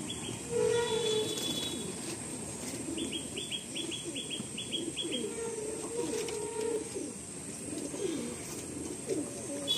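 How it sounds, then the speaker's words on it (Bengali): Pigeons at a loft coo in low, rolling phrases repeated several times, mixed with soft chirps and a short flutter of wings, all over a steady background hiss. "এইটাও একটা পায়রা"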